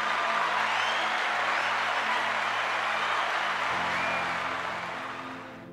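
A church congregation applauding a priest, a steady wash of dense clapping that holds at even loudness and then slowly tapers off, with a low hum underneath.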